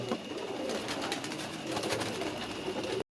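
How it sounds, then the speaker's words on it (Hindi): English pigeons cooing on a rooftop loft among a flock kept for pigeon flying, with soft continuous murmuring calls and background bird noise throughout, no talk. "ये इंग्लिश कबूतर है हमारा"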